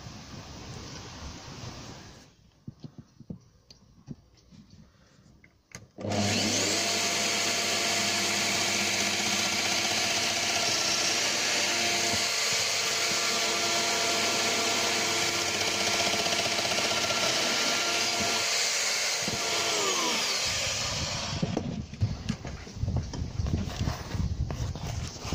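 Router fitted with a 12mm cutter plunging slots 15mm deep in a rotted door frame, a loud steady motor whine running about fifteen seconds, rising in, holding, then cutting off, with quieter handling noises before and after.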